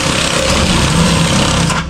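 A power cutter slices through a rusty steel floor pan on a 1966 Mustang, giving a steady, loud, high-pitched buzzing grind that runs unbroken for about two seconds before easing off at the end.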